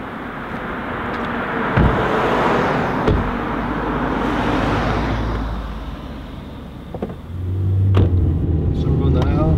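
Car driving after a high school event, a steady low road rumble from inside the vehicle with a couple of sharp knocks, as people talk over it.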